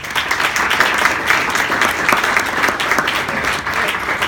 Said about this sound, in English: Just everybody give a big round of applause to Mrs.